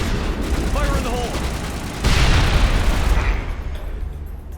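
A grenade blast in the video game Mass Effect bursts loud and close around two seconds in, over a steady rumble of battle noise and gunfire, with a voice calling out beforehand.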